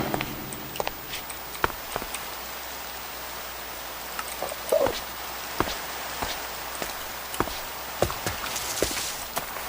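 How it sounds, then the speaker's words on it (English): Steady soft rain falls in Minecraft, a faint continuous hiss broken by scattered sharp clicks and taps spread through the stretch, with no voices. "So it is raining,"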